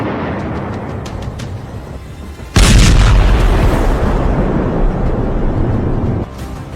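A bomb blast from a strike in Lebanon, one sudden heavy boom that rolls into a long loud rumble lasting several seconds before it eases, after a quieter stretch of background noise.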